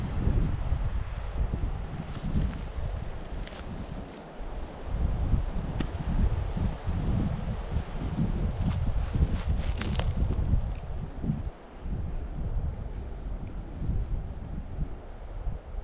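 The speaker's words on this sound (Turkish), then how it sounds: "Çok da rüzgar var değil mi? Ama güzel esiyor." Strong wind buffets the microphone outdoors in a continuous, loud low rumble with gusty swells throughout, no other clear sounds.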